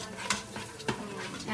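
Cut scallion pieces and ginger fry in sesame oil, giving a quiet, even sizzle broken by a few light scrapes of a spatula stirring the pan.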